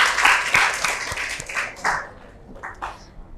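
A classroom of students giving a short round of applause, a dense burst of clapping that thins into a few scattered claps and fades within a few seconds.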